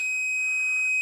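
A pulser oscillator rigged to a magnetic inductor and microphone gives off a steady, piercing electronic tone with bright overtones, holding an even, loud level for the full second with no pulsing or pauses.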